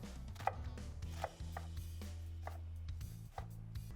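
Knife cutting slits in a red onion on a cutting board, a few sharp, close taps spaced irregularly over a low steady background hum.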